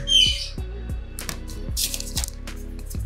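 A bird squawks and chirps sharply several times over a steady rhythmic tapping background, close and fairly loud.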